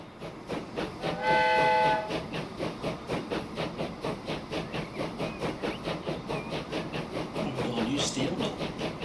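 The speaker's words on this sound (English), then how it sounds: "Should see the trains coming out of here." Trains pulling out of a station in the video game Transport Fever 2, a rhythmic, steady clatter of wheels over rail joints with a sharp whistle blast near the start and faint chirps later.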